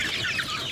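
A brief burst of nearby chicken clucking, a few quick overlapping calls with no talk.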